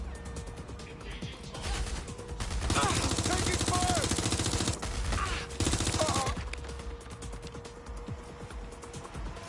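Gunfire in the Wap Dogs 3 video game: rapid automatic bursts crackle continuously, swelling into dense, loud fusillades with crashes, and shouted voices mixed in.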